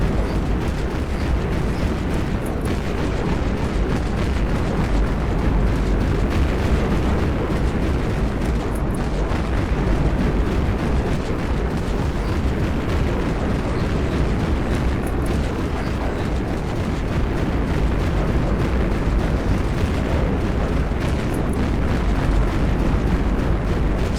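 The Valkyrie weapon in the video game Dead Frontier fires and explodes in a loud, continuous roar of blasts and booms lasting over twenty seconds, dense and unbroken.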